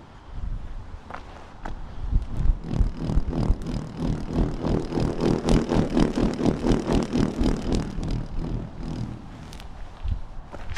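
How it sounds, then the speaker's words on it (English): A wind wand swung through the air makes a whirring, pulsing whoosh that swells and fades, rhythmic and close, with no voices. "Wind wand."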